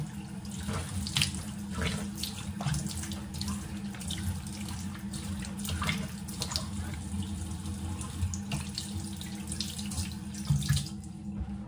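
Cold water runs steadily from a sink tap during a face-washing routine, a continuous close splashing stream with no talk over it.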